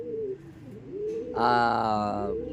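Racing pigeons coo softly and rhythmically up close while being fed, with a louder burst of layered cooing and fluttery calls partway through.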